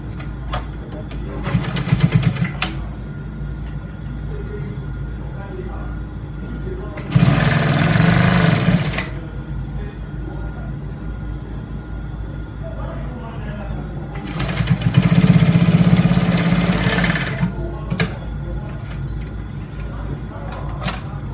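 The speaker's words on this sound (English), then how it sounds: "I'll need to make sure I double stitch this part so that the threading won't be showing. It's going to top stitch." A sewing machine runs close by in three short bursts, each lasting a couple of seconds, while top stitching a corporate trouser, with quieter handling noise between the runs.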